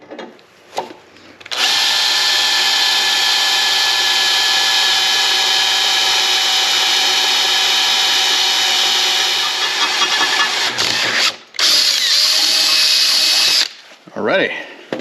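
A power drill with a quarter-inch bit bores into a welded angle-iron bracket for a folding metal camping grill, a loud steady whine running about twelve seconds, with short pauses before and near the end.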